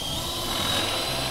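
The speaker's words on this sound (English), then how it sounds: "place your bit on there where you wanna drill, drill your hole." A power drill with a countersink bit whirs steadily and close by, a continuous motor drone with a high whine, as the bit bores into material.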